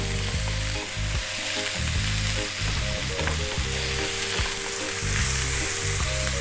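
Vegetables with ginger garlic paste sizzle loudly in a pan over high heat, the hiss constant while repeated scraping and stirring strokes keep the food moving.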